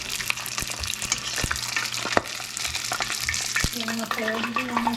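Chicken wonton taco shell frying in shallow, running-low oil after being flipped, a steady close crackling sizzle with sharp spitting pops throughout, alone without talk.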